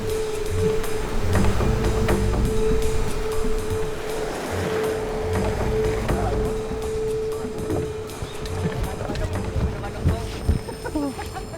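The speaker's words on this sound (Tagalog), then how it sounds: "Habang papalapit kami dun sa Port of Sabtang, mas lumalakas yung alon." Strong sea waves churn near the Port of Sabtang in Batanes, a continuous loud wash of surf with a steady boat engine drone underneath, and voices speak over it.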